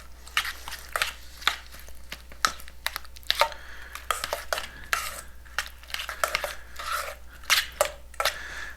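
Potato salad with added onions mixed in a bowl, a spoon scraping and clinking in an irregular stirring rhythm close up, with no talk over it.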